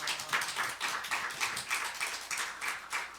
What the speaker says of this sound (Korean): 여러분 뜨거운 박수